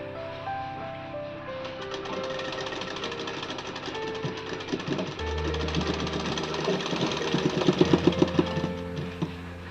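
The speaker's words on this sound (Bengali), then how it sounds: "পুরোটা কিন্তু আমি সেলাই দিয়ে নেব" An electric sewing machine stitches cloth panels for a six-panel petticoat, a close, rapid mechanical whirring that speeds up into a dense rattling run with no talk.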